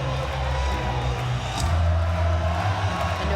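Volleyball crowd at a Texas home match during an NCAA women's regional final, a steady broad roar of cheering and shouting that swells slightly louder partway through and carries on continuously.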